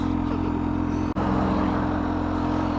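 A Kawasaki H2 SX SE motorcycle engine idles steadily at a fairly high, even pitch, with a brief dropout partway through.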